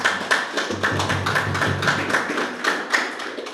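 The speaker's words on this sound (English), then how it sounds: "So let's give him a round of applause." A round of applause at a community sports consultation in St. Andrew, a moderate patter of hand claps from a gathered crowd, fairly steady over several seconds, somewhat distant.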